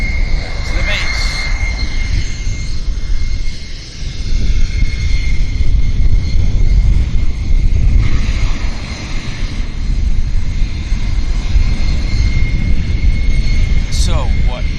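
Steady jet aircraft rumble from a WestJet passenger plane on flight 1788 to Las Vegas at Vancouver YVR airport, a continuous loud roar sustained throughout, with a voice talking over it.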